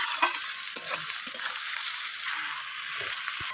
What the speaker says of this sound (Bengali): নাড়াচাড়া করে খুন্তি দিয়ে আমি পেঁয়াজটাকে ভেজে নেব